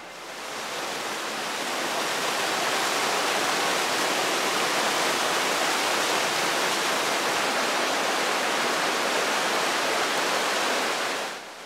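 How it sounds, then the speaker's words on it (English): A steady, loud rush of a waterfall pouring out from under a natural limestone rock bridge in Arkansas roars continuously, broad and full, with no voices or other sounds over it. "the waterfall coming out from underneath this natural bridge"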